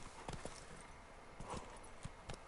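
Horse hooves clip-clopping at a walk in the video game Witcher 3: Blood and Wine, a few scattered hoof knocks close by over a soft ambient background.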